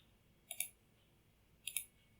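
Two separate mouse clicks, each a quick double-snap, land on the colored axis dots of a Blender 3D viewport. They are crisp and close against a faint quiet background, about a second apart.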